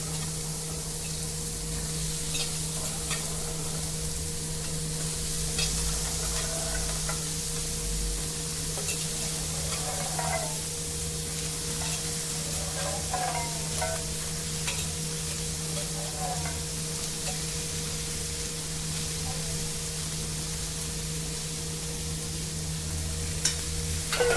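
Green peas are stirred and fried in roasted masala in a pan, making a continuous close sizzle with occasional soft scraping. A steady low hum runs underneath throughout.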